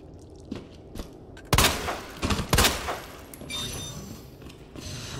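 Gunfire from the video game Resident Evil 2 Remake: a few sharp, loud shots burst out in quick succession near the middle, then fade into a low mechanical hum and faint game ambience.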